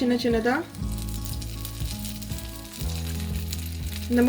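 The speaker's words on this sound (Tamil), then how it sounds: "இதை பொரிச்சு எடுத்துக்கலாம். இப்போ எண்ணெய் நல்லா சூடாயிருச்சு." Paal paniyaram batter fries in hot oil with a strong, steady sizzle up close, rising to a louder burst near the start and end as batter drops in, with tonal background music throughout.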